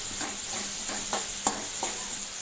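Egg being stirred into rice frying in a hot pan, with a steady sizzle and soft rhythmic scraping strokes, close and fairly quiet.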